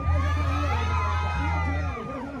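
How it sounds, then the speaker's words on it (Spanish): Women in a live concert crowd at a ranch venue shout and cheer loudly together, a dense continuous roar of whoops and yells close by, with a low musical drone running underneath. "Y el grito de las mujeres"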